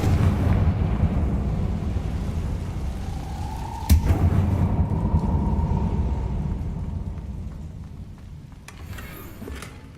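A Confringo fire spell from Hogwarts Legacy goes off with one sharp blast and a low rumbling burst, then fades into a steady background drone.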